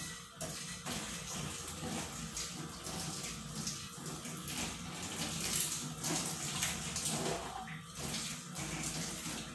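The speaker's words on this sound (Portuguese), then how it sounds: "E venho com água quente de novo." Hot tap water runs steadily into a sink while cutlery is washed, a continuous close hiss and splash with small clinks and shifts in the flow, no talking.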